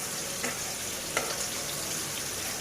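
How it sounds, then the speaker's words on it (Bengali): Slices of kakrol (spiny gourd) frying in a pan give off a steady sizzle and crackle, with an occasional stir or clink of a utensil. There is no talking. "পাল্টিয়ে কাঁকরোল এভাবে ভেজে নেব"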